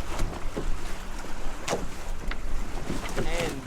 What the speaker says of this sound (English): We're sailing right now, so it's good right now.